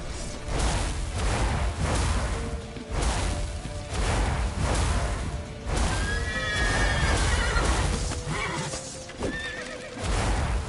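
Horses whinny repeatedly amid hoof clip-clops and rushing commotion during a frantic mounted scene, loud neighs rising over the galloping clatter several times.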